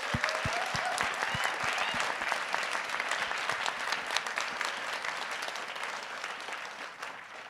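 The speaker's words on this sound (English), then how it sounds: "can we all please give a round of applause to Nicole, Rui, and Jeff for the amazing job they've done" An audience at a pitch event applauds its organizers. A few distinct, loud claps come first, then full applause builds and holds, fading slightly near the end. There is a faint murmur of crowd voices underneath.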